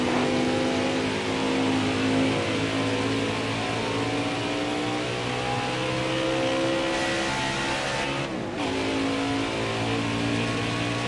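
Craftsman Truck Series race trucks at Watkins Glen roar down a straightaway, a dense, continuous engine drone with overlapping revs and a brief dip as one passes close by.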